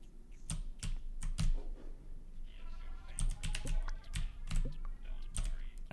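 Computer keyboard keys tapped in quick clustered bursts, crisp close clicks with short pauses between groups, under a quiet background.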